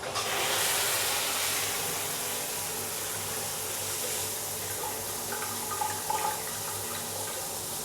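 Water pours steadily from a one-piece hotel shower head fitted with an empty vitamin C filter, a strong continuous hiss with no talking over it.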